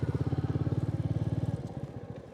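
A motorcycle riding at dawn along small village roads, its engine giving a steady, rapid thumping pulse up close that fades into a rougher, quieter rumble as it eases off.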